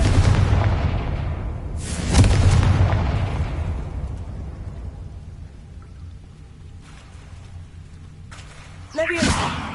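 Confringo fire spell explosions in Hogwarts Legacy, two loud booming blasts a few seconds apart, each trailing off into a fading rumble.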